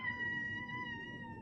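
A house cat lets out a single drawn-out meow, clear and tonal with a slight downward bend, heard close by in a quiet room.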